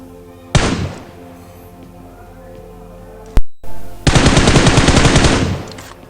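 Gunfire in a battle royale squad match: a single loud shot, a sharp crack about three seconds later, then a close, loud rapid burst of automatic fire lasting about two seconds, with no talking.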